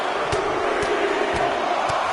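Arena crowd cheering in a wrestling video game during a Rocky Maivia match, a dense steady roar of many voices with faint rhythmic thumps pulsing through it.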